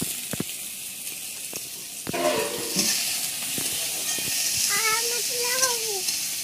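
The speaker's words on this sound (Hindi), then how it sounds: "उसके बाद प्याज डाल देते हैं" Onions hit a hot pan already holding chilli and garlic for village-style pasta, and a crackling sizzle swells up under scattered kitchen knocks, with brief voices in the background.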